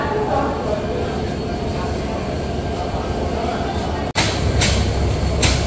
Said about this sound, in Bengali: আর 9:10 প্রবেশ করলো পঞ্চগড়গামী দ্রুতযান এক্সপ্রেস।